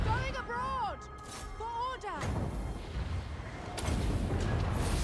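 Artillery fire in the Total War: Warhammer battle, heavy booming blasts and a dense rumbling barrage over battle noise, with whooshing projectile sweeps early on.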